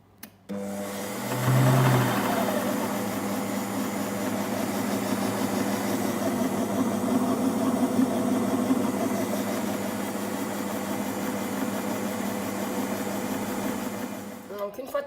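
A kitchen robot mixes at speed 3 while heating to 70 degrees, starting with a click and a short louder whir, then a steady, close motor drone for the rest of the run, with speech over it.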